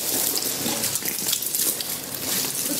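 Water runs steadily from a tap in a continuous, even hiss and splash at moderate level, with no talking over it.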